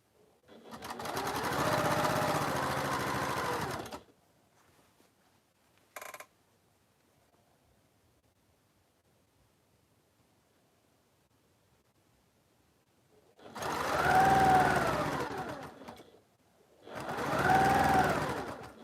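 A sewing machine stitches a double carpenter's star quilt in three bursts: a four-second run at the start, a long quiet gap with a brief blip, then two shorter runs near the end.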